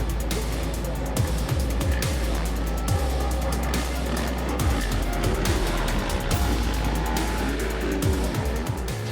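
Several motocross bikes race at the MXGP of Netherlands, their engines making a dense, continuous, loud buzzing roar with repeated revving swells as riders work around the track.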